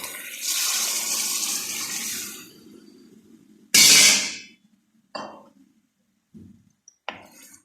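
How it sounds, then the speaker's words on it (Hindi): Water poured into a hot pan of frying peas for matar ki sabzi, a loud hissing sizzle that fades, then a sharp burst of steam and a few shorter sputters and clinks. "अब हम यहाँ पानी डाल देंगे।"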